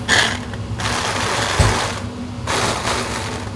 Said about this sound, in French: Là, je vais le mixer.